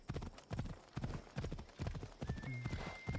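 Rhythmic hoofbeats of a horse in the video game Assassin's Creed Odyssey clip-clopping at a steady pace, fairly close, with a brief whinny near the end and a faint tone in the background.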